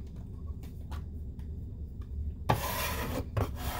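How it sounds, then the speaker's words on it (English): A bench scraper pushes sliced zucchini across a surface onto a dehydrator tray, making a few faint taps and then a sudden rough scrape with a second short scrape just after, close and fairly quiet. "I'm just using my bench scraper to put these out on my tray"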